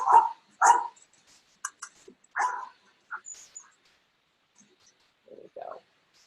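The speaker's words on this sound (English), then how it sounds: "There's more barking." A dog barks in short separate bursts close by, with a few softer yips and whimpers between them and a short pause before the final barks.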